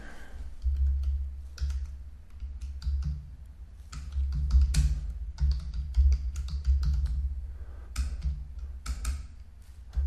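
Rapid, irregular clicking of keys being typed on a computer keyboard, close up, in short flurries over a low background hum.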